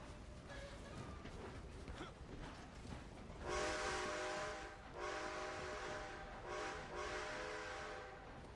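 A train in the Red Dead Online video game rumbles along steadily, and two loud horn blasts sound over it, the first longer and the second shorter, with no speech.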